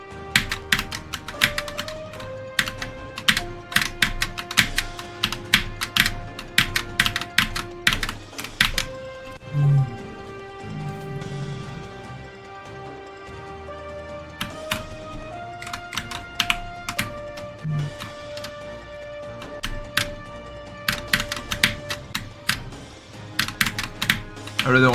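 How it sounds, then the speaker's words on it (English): Computer keyboard keys tapped rapidly in irregular bursts while a platformer game is played, close and steady for the whole stretch, with game music tones underneath and no talk over it. "I use my keyboard for platformer."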